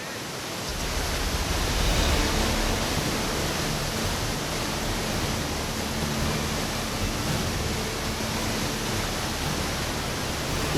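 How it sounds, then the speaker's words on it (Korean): Heavy, steady roar of the Nile's 50-metre-wide flow squeezing through a roughly 6-metre rock gap in an equatorial waterfall, a dense continuous wash of rushing water filling the whole clip with no voices. "(50m) 폭의 나일강이 흐르다 6m 남짓의 바위 사이로 물줄기가 모이게 되는데"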